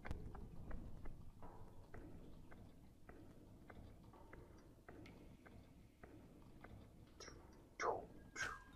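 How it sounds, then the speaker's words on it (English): Heavy footsteps in the video game Sally Face, a slow series of faint, regular thudding steps, followed near the end by a few sharper, louder game sounds. "You got some heavy footsteps there, Sal."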